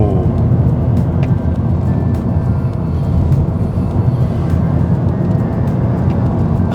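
A BMW 328i E90 sedan driving fast, its engine and road roar a steady, loud, continuous drone with no talk over it.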